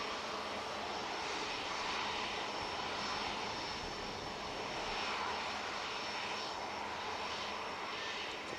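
A jet airliner with two Rolls-Royce engines at Manchester Airport produces a steady, broad roar at moderate distance, holding evenly throughout with no talking.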